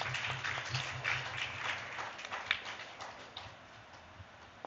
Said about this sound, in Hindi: जितने लोग भी हाथ उठाए थे ताली बजा दो